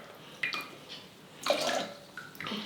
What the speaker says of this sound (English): And then I fill it up with water.